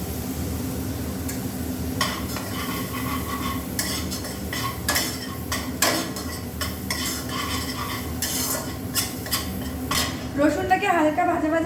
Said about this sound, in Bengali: রসুনটাকে হালকা ভাজা ভাজা করে নিয়েছি।